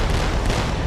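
Aboard the USS Jackson, an automatic cannon fires a short burst, heard as a loud, dense boom that fills the whole moment and blurs the individual rounds together.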